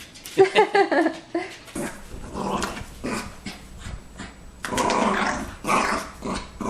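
A puppy growls and barks up close in loud, rough bursts, with whimpering growls between the yaps and a brief stretch of sustained snarling.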